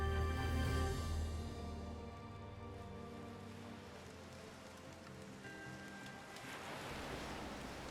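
Ocean waves wash in a steady, fairly loud ambience with a rain-like hiss, fading slightly in the middle before swelling again, with no voices present.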